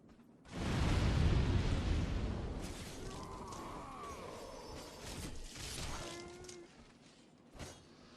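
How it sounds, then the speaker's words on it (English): In the video game Demon's Souls, a thrown fire barrel erupts in a sudden loud burst of flame. The roar fades into crackling, burning noise with a few fainter knocks later on. "It's pretty great fun to throw these and unleash an inferno upon the unsuspecting dreglings."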